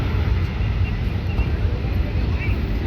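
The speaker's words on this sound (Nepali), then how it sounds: "अब त्यो प्लेन अब प्लेन उड्छ" An airplane passes overhead as a steady, loud, broadband roar and rumble that holds evenly throughout, with wind buffeting the microphone and indistinct voices mixed in.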